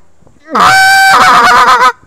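A wooden goose call blown close up in one drawn-out, loud honking note that breaks into a quicker, stuttering series of honks before stopping abruptly.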